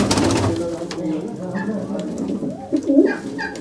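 Pigeons cooing in a loft among the birds kept in pairs, soft low calls running under nearby talk.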